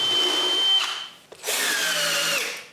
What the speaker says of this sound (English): I just need to screw some cleats to hold it in place.